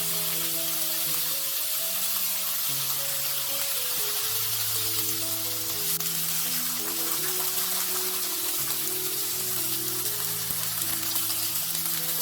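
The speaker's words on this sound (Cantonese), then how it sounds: "將佢多餘嘅麵粉拍咗佢，就放佢落去煎" Floured fish pieces pan-frying in hot oil, giving a loud, steady, unbroken sizzle that persists throughout under background music.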